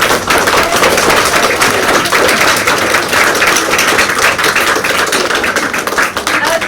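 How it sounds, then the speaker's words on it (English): A school audience applauds a Year 6 student after his exhibition talk, dense continuous clapping filling the room at steady loudness with no voices standing out. "let's give Charlie a huge round of applause"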